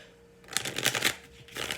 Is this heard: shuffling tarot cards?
yes